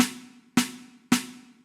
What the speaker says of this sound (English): Really nice, open, reverby sound going on the snare.